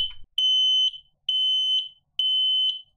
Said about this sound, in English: So I've got a smoke alarm here.